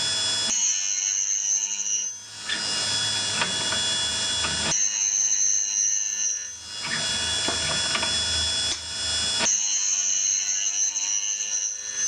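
A 4-flute center-cutting end mill is ground in a drill and end mill resharpening machine. A shrill, close grinding whine rises and drops in three repeated passes, each separated by a short rougher scraping stretch.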